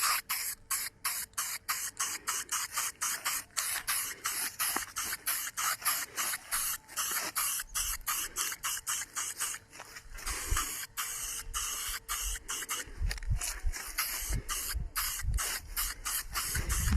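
Aerosol spray paint hisses in repeated short bursts onto the brake calipers of a Toyota Celica, a steady rhythmic series of close, loud sprays with brief gaps between them and some handling noise underneath.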